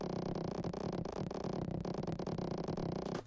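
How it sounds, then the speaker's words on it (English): Creaking door sample cut to a millisecond slice and looped with no effects, giving a dense, harsh, buzzing tone that runs continuously and loud for several seconds. "I still use that same creaking door effect"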